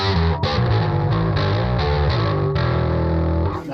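Donner Alpha bass guitar played through chorus and compression effects, sustained thick low notes shifting pitch every half second or so, a dense buzzing tone held steadily throughout with no voices.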